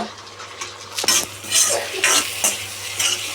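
Noodles being stirred and mixed in a pan, with repeated metal scrapes and knocks of a utensil against the pan over a soft sizzle, close by and fairly loud.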